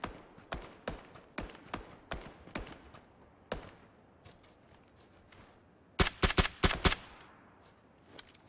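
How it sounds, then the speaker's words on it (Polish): Gunfire in the battle royale video game PUBG: a series of evenly spaced sharp single shots, followed after a pause by a quick close cluster of louder rapid shots, with no talk. "To nic, ostrzegawcze muszą być strzały."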